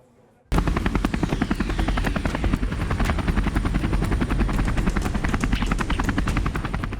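An MH-60R Seahawk naval helicopter roars loudly after a brief quiet start, its rotor blades thudding in a rapid, steady beat over a constant engine whine.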